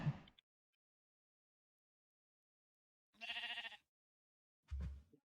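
Sheep in the Minecraft video game bleat twice, each call a short wavering cry separated by silence, with a brief thud at the very start and no talking.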